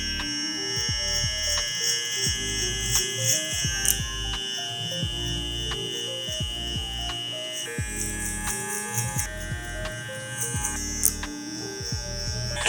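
Electric hair clippers fitted with a 2 guard, lever open, cut hair in a haircut, a close, steady buzzing hum that swells and dips in short passes throughout, with no talking.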